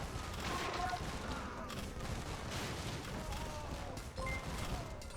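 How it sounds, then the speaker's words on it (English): Rapid volleys of organ guns firing in a strategy video game battle, a continuous crackling barrage of gunfire and booms mixed with distant in-game clatter, running under a commentator's talk. "Even they get taken out by the organ guns."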